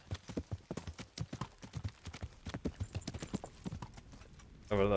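Horse hooves clip-clop steadily in the medieval video game Kingdom Come: Deliverance, a rhythmic run of close, even hoofbeats with a brief whinny-like sound at the end.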